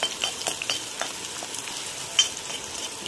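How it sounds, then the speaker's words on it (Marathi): One medium onion, finely chopped, sautés in a spiced oil tempering, giving a steady close sizzle broken by short scraping stirs, with no talk. "त्याच्यामध्ये मी नंतर कांदा ॲड केला, एक मध्यम आकाराचा बारीक केलेला, तोही छान असा परतायचा।"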